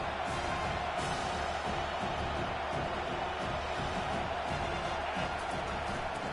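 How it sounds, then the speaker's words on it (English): Dense, steady stadium crowd roar from a college football video game, USC against Notre Dame, a continuous wash of noise that swells slightly without breaks or distinct voices. "this crowd is turning it up a notch"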